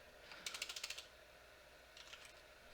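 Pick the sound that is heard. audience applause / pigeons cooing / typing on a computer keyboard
typing on a computer keyboard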